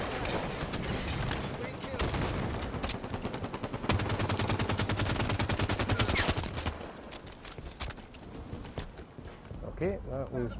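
Halo 5: Guardians arena match gunfire rattles in dense, rapid automatic volleys for several seconds, loud and close, with a player talking over the game audio.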